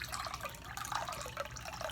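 Martini poured from a cocktail shaker into a chilled cocktail glass, a steady liquid trickle and splash running continuously for a couple of seconds at close range.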